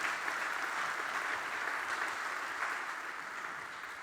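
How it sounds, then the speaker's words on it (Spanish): A church congregation claps steadily for the Lord Jesus during a sermon on Jesus healing the Roman centurion's servant, a dense, even wash of applause lasting throughout and fading only slightly at the end. "Dale un fuerte aplauso al Señor Jesús por eso."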